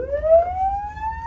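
An Embassy hooter siren fitted to a Mahindra Thar wails as one loud, steady rising tone close by, with a low vehicle rumble underneath and no talking.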